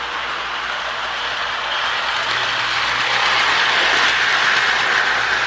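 A prewar Lionel Streamliner Jr toy train fitted with a Marx E7 motor runs smoothly around O36 curves, giving a steady close rolling rumble and whir that grows slightly louder toward the end.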